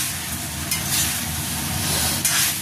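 Food sizzles and sautés in a pan with a continuous hiss, and a few soft stirring scrapes sound close by, with no voices.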